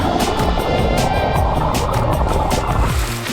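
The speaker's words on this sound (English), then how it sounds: "now I'm letting it drive me home because it's got a motor" A Boost electric motor fin pushes a Pelican paddleboard across water, giving a constant near whirring hum mixed with splashing and rushing water that fades slightly at the end.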